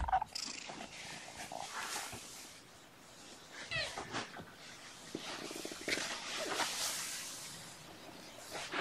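Kittens recovering from a stomach bug eat lunch, with soft chewing, lapping and low purring sounds moving close to the microphone alongside rustling, while a person talks quietly in places.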